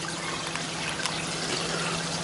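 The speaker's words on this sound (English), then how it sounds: "As you can see, it's squirting out water." An Aqua One Aquis 1200 aquarium canister filter squirts water in a soft, continuous trickle and splash, faint and close, holding steady with a low hum beneath it.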